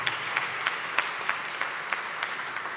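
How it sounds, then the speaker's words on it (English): A conference audience applauds steadily in a large hall, a dense wash of many hands. Louder individual claps stand out at roughly regular intervals, and no one speaks over it. "give yourselves a round of applause"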